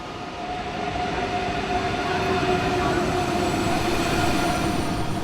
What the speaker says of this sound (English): the train was just cruising at 300 kilometers per hour